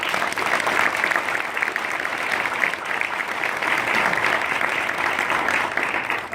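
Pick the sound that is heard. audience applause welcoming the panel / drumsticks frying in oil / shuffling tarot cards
audience applause welcoming the panel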